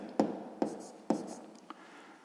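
A pen taps and scratches across paper while working out a sixth-grade maths solution, three distinct strokes followed by a fainter fourth, close and quiet with no one talking.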